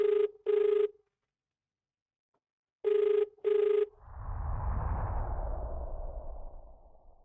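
A telephone rings out to a radio-show caller in two pairs of electronic trills separated by a pause, clear and isolated, followed by a soft rushing whoosh.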